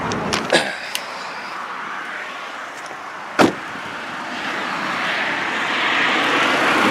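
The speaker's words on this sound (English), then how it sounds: "put the camera around the motor or the engine compartment, and let you listen" A 2010 Nissan Sentra SE-R Spec V with a 4-cylinder engine and 6-speed idles steadily up close in the engine bay, a continuous whooshing drone with a few sharp clicks and knocks, growing slightly louder toward the end.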